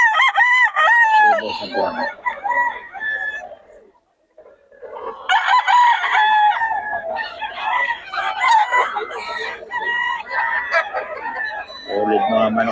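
Roosters at a Bocaue fowl sale crow loudly and repeatedly, with clucking between calls and a brief lull midway; several crows overlap near the end, while someone talks over the birds.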